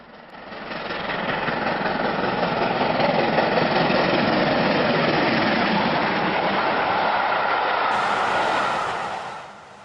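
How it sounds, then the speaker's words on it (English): An LNER B1 steam locomotive, 61000 Springbok, hauls a semi-fast train past, a steady rolling rumble swelling in and fading away over several seconds. "now working a semi-fast, we see the same B1 as before, 61000 Springbok"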